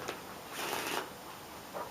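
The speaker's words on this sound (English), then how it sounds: "It can be completely shuffled by the spectator if wanted." A deck of playing cards shuffled by hand for a mind-reading card trick, with a couple of quick riffling bursts separated by short pauses, close and fairly quiet, no talking.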